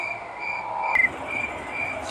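Train moving in the video game Granny 3, a steady metallic rolling hum with a sustained squealing tone and a brief sharp clank partway through, moderately quiet, with no talking.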